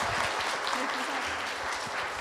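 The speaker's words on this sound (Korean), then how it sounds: "여러분 힘차게 축하 말씀을 보내주신 허영 의원님께 다시 한번 큰 박수 부탁드립니다" An audience at a Korean book concert in Wonju applauds steadily, dense and fairly close clapping that fills the whole stretch, with some voices mixed into the crowd noise.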